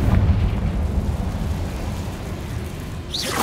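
A Confringo spell explosion in the video game Hogwarts Legacy, a loud, dense blast with a deep rumbling tail that fades over a few seconds, followed by a brief bright whoosh at the end.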